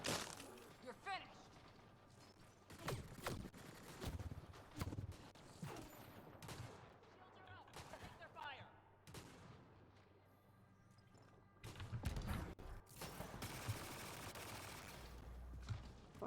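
Gunfire in the sci-fi shooter Mass Effect Andromeda, with repeated bursts and sharp cracks scattered across a busy firefight, some close and loud, others fainter, under intermittent talk.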